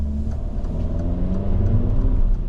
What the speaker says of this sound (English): I had a little bit of wheel spin over there